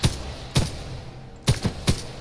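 Gunfire at video game target practice: single sharp shots fire in an irregular rhythm, roughly five reports over two seconds, loud and close with nothing else between them.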